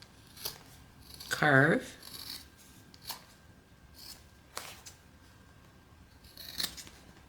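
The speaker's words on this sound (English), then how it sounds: "go ahead and trim the seam allowance on the bottom" Scissors trim the seam allowance on a sewn fabric piece with a few separate close snips spread out over several seconds. A person speaks briefly between the cuts.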